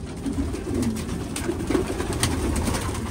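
Racing pigeons in a loft give soft, repeated cooing at close range, with light rustling and bird noise around them.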